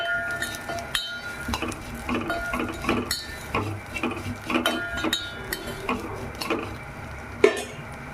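Vermicelli roasts in a pan while a utensil stirs it, giving repeated close metallic scrapes and clinks against the pan over a faint background.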